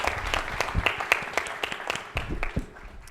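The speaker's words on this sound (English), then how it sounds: "Let's give Dean Elwood and the students another round of applause." A live audience gives Dean Elwood and the students a round of applause at an event on art for social change: dense, steady clapping from many hands for about three seconds, fading slightly toward the end.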